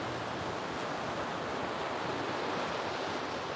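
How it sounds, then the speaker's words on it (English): Steady ocean waves break and wash onto the shore in a continuous broadband roar, fairly loud and unbroken, with some wind noise on the microphone and no voices. "The waves sound great today too, don't they?"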